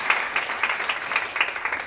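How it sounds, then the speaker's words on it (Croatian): An audience applauds at the Miss New Face BiH 2022 beauty pageant, a short, dense burst of steady clapping from many hands with no voices on top. "I jedan veliki aplauz za Yes"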